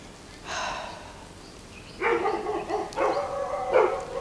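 Several dogs from neighboring yards bark back and forth, one short bark first, then clusters of sharp barks and yips from a moderate distance against a quiet background.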